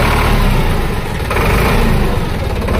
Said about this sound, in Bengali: ইঞ্জিনের আওয়াজ নিশ্চয়ই আপনারা পেয়ে গেছেন।